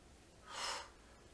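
A single quiet, breathy exhale during a Pilates mat exercise swells and fades in under a second against near silence.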